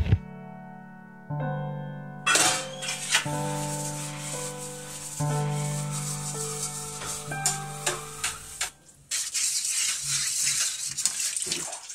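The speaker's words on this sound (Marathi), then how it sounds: "आधी भांडी घासते" Water runs from a tap in bursts while dishes are scrubbed and rubbed, with clinks and scraping sounds close by.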